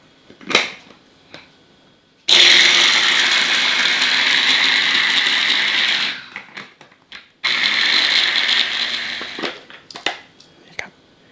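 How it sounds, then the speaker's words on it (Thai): A kitchen blender grinds red chili, garlic and coriander root for a three-flavour fish sauce, loud whirring in two long bursts separated by a pause, with scattered knocks and clatter around them. "ใส่ส่วนผสมทั้งหมดลงไปปั่นเลยครับ ปั่นให้ละเอียดดีเลยนะครับ"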